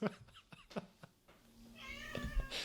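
A cat is heard after some soft knocks and rustles. A drawn-out, wavering meow rises near the end, close by.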